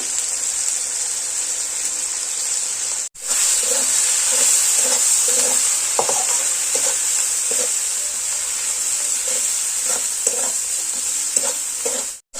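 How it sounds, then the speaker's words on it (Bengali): Spice masala with turmeric and chilli powder frying in a pan for a ban fish curry, a loud, steady hiss with rhythmic spatula scrapes throughout and a brief cut near the start, no speech. "এবার ভালো করে মশলাটা একটু কষে নেব"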